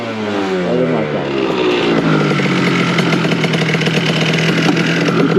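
A street-tuned Yamaha Aerox scooter with advanced ignition timing revs hard and close, its buzzing two-stroke note climbing steadily and holding loud throughout.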